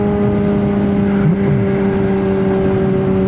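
A motorcycle rolls along slowly, its engine giving a steady, loud, continuous drone with a brief dip in pitch partway through, no voices over it.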